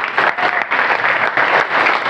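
An audience at a school orientation event breaks into loud, dense applause, steady clapping from many hands that swells and dips briefly.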